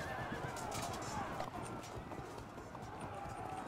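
Light horse archers in the Field of Glory 2 strategy game: a dense, continuous rumble of galloping hooves with horse neighs and whinnies over a battle din, with no talk.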